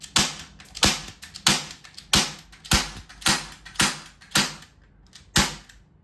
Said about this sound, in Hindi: इस पे से मैं नीचे फायर करता हूँ।